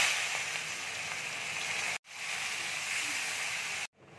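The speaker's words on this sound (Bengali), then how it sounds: "এবার আমি পেঁয়াজটা দিয়ে দিচ্ছি।" Onion fries in melted butter and oil with whole cumin seeds, making a steady, bright sizzling hiss that cuts out briefly twice before resuming.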